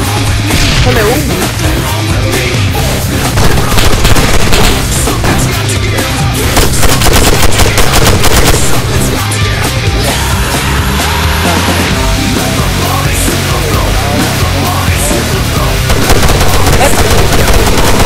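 Rapid gunfire from Arma 3 multiplayer in a King of the Hill mod match, dense and continuous bursts of automatic fire layered over a steady drone of other game sound throughout.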